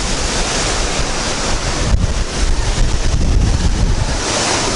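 Sea surf on the Baltic coast at Rauschen: a steady, loud wash of waves rolling onto the shore, mixed with gusty wind buffeting the microphone throughout, with no voices.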